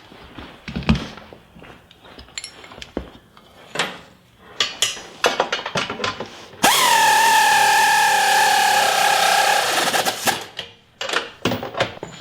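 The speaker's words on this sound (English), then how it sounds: "now I can tighten down all the bolts on the pinch seam" A power tool whirs for a few seconds as it tightens bolts on the pinch seam of a Jeep Cherokee XJ during rock slider installation, with scattered metallic clanks and handling knocks before and after.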